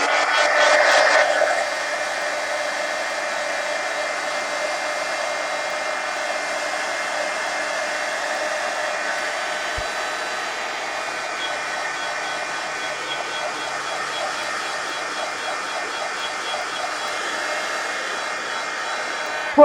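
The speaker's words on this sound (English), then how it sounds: "let me hit that with the heat gun and dry it" A heat gun blows steadily on matte medium brushed over an altered collage book page, a loud continuous whooshing roar that starts slightly stronger, then holds even and close for the whole stretch.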